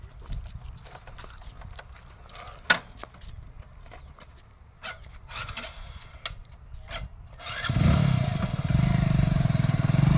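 A friend's new motorcycle, preceded by scattered clicks and knocks and one sharp thud, before the engine swells into a loud, steady, close drone over the last couple of seconds.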